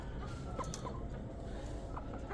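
Soft clucking from an Aseel hen, a few short calls over steady low farmyard background noise, fairly close and moderate in level.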